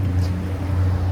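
A car passes on a Miami road near a busy, traffic-heavy crossing, a steady low engine and tire rumble that stays close and fairly loud throughout.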